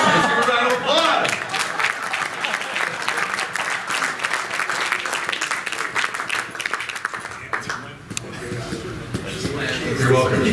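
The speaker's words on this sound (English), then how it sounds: "Let's give a round of applause." A live audience at a motivational talk breaks into a loud, dense round of applause with cheering, sustained for about ten seconds, with voices mixed in and a brief dip near the end before the clapping swells again.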